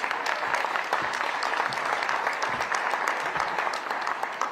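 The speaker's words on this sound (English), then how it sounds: "Can you give them a nice round of applause?" Applause from an outdoor crowd at a groundbreaking for a new O'Hare Airport terminal, honoring city aldermen; dense, steady clapping with sharp individual claps, moderately near and sustained throughout.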